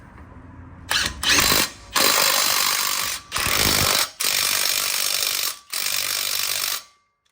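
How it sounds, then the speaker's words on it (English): An impact wrench tightens brake bolts on a lowered Chevrolet Silverado pickup, firing in about five loud, close hammering bursts of a second or so each, separated by short pauses. "So I'm just gonna torque them up with my impact"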